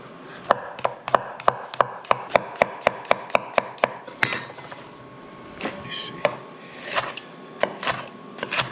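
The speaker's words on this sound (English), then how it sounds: "We're going to cut up our mushrooms." A very sharp knife chops mushrooms on a board for a frittata, a fast even run of about a dozen crisp close taps, then slower scattered cuts and soft handling sounds.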